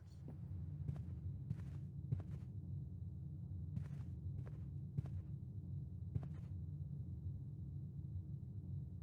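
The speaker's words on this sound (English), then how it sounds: "I feel like I'm hearing footsteps in the distance as I walk through this room." Footsteps in the video game Blue Prince, a series of soft, irregular taps while walking through a room, heard over a steady low rumbling ambience.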